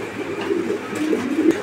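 A pair of Bombai pigeons coos softly at a farm, low murmuring calls repeating close by with no talk over them.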